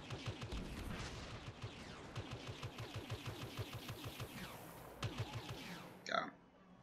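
Blaster fire in a Star Wars Battlefront battle: a steady, rapid stream of repeated shots over a busy combat backdrop, with a few louder bursts near the end before it cuts off abruptly.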